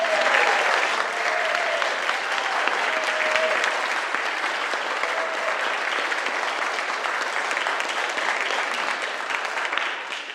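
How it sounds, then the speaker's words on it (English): An audience at a live worship service applauds, a dense, sustained wash of clapping that stays steady for about ten seconds before tapering slightly, with faint voices mixed in. "please join me in a round of joyful applause"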